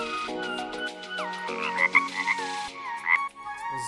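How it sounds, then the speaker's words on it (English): A frog croaks repeatedly in a steady series of close, loud, throaty calls with short gaps, alone without any talking. "Frog."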